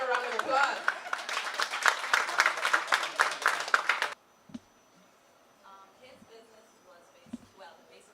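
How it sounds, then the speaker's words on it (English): An audience gives a hearty round of applause with dense clapping for about four seconds, which then cuts off sharply into quiet room sound with a few faint voices. "Ladies, give a round of applause."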